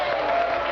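Applause from a church audience at a televised religious debate: a brief, steady wash of clapping with no gaps.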